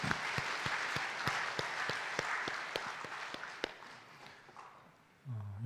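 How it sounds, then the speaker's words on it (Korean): Church congregation applauding during a Sunday service, rhythmic unison clapping with sharp regular beats over a broader patter, fading out before a voice begins at the end. "하나님께 영광의 박수 하겠습니다."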